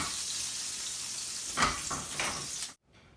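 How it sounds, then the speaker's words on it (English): Bacon fries in a pan over slightly raised heat, giving a steady close sizzling hiss with a couple of brief louder crackling surges before the sound cuts out near the end. "We're gonna flip our bacon now. I'm gonna turn the heat up just a little bit."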